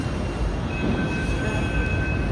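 Steady rumble and rattle of a Pune metro train in motion, with a faint high whine running through, continuous and fairly loud throughout.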